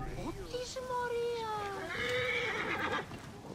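In Assassin's Creed Origins, a horse gives a loud whinny that falls in pitch, then a second shorter neigh, set against soft game ambience.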